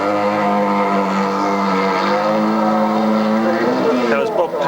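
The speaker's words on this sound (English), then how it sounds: "That was Bob Panther in the BMC dragster Shazam." The BMC dragster Shazam roars down the drag strip at Snetterton, a loud sustained engine note that climbs in pitch and then shifts as it pulls away near the end.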